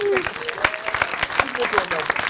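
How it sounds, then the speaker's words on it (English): A short burst of dense clapping from a crowd, steady and loud throughout. "Give that man a clap."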